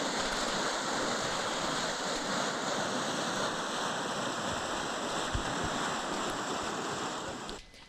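Water gushes from a burst main pipeline of the Hiran-2 dam in Gir Somnath, a steady dense roar like a torrent that stays loud and constant until it drops off abruptly near the end.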